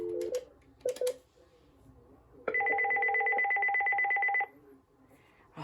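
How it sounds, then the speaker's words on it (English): A Uniden landline telephone rings for an incoming call: two short electronic chirps, then a long loud steady warbling ring lasting about two seconds, close and clear with no talking. "Oh man, I miss hearing the Uniden's ringtones"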